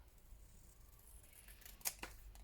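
Scissors trimming a paper cover, heard as a few faint, quiet snips close by, with one sharper cut standing out near the end against a near-silent room.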